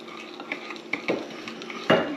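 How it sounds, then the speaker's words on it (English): Sugar, eggs, vanilla and oil are stirred together in a bowl for cranberry orange muffin batter, with soft wet swishes and a few utensil knocks, louder near the end. "So we're gonna mix these together."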